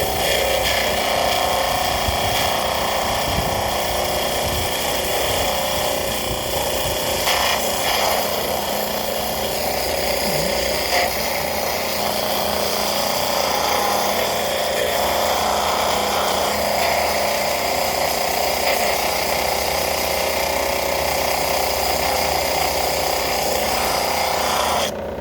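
A flat lap machine spins at about 5,000 RPM while cleaning up a smoky quartz tower, giving a continuous grinding whir with faint rubbing and scraping, steady and close for the whole stretch.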